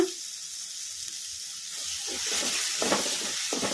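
Curry base frying in oil with turmeric powder, a steady broadband sizzle that grows louder partway through, with soft stirring scrapes over the continuous hiss and no talking.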